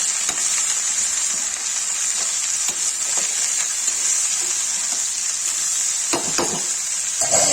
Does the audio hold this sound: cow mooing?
no